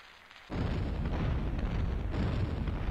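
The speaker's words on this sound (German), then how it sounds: "So, und das löst eine Kettenreaktion aus" A bomb sets off a chain reaction of explosions in the Nintendo 64 game Charlie Blast's Territory: a sudden, loud blast roars in and holds as a continuous rumbling barrage for over two seconds, swelling again near the end, with no talk.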